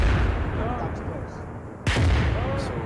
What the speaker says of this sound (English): I'm just going to drop some arty shells so you can see the effects of the two types of chem and biological weapons